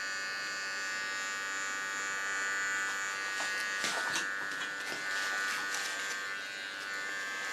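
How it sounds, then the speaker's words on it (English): Electric shaver buzzing steadily while shaving the neckline hair of a short pixie haircut, a close, continuous whirring hum with slight changes as it moves over the skin, no talking. "So far the shaving out of the neckline."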